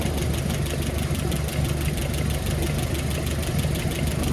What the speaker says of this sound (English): what it looks like when the engine is running